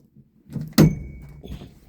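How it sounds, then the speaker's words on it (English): A wooden half door on an Appalachian Trail shelter at Low Gap swings and shuts with a single solid thunk, preceded by a soft creaking shuffle and followed by a faint rattle, close by and alone. "They make a half a door and it never stays shut."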